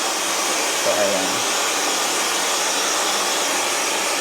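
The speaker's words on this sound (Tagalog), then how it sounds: "Blower natin." A hair dryer blows steadily and loud for several seconds, a constant airy whir with a faint low voice briefly underneath near the start.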